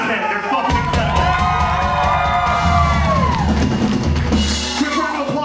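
A concert crowd at a live music venue cheers, whoops and yells continuously and loudly after a band's set, with shouted voices rising over the steady roar of the audience.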